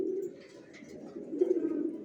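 Racer pigeons cooing softly in a loft, a low continuous murmur of coos with a louder burst near the end, no voices.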